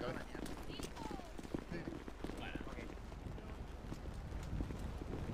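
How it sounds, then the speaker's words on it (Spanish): Horses gallop in a video game, a dense, continuous drumming of hooves with loud game noise and chatter mixed in throughout. "Puros caballos para que vamos en caballo"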